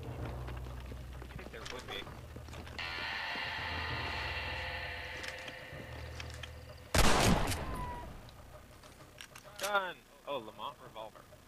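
Gunfire from a gun in Red Dead Redemption arrives as a sharp, loud burst partway through, followed by a few further cracks and clatters. A steady background hum runs beneath, and a voice talks at times.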